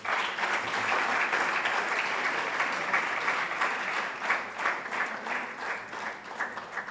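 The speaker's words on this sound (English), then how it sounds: "Could I have a round of applause for Mr. Ananth Kumar" At an institute foundation-day panel discussion, the audience applauds a hospital CEO being introduced: sustained, moderately distant clapping that thins into scattered claps toward the end.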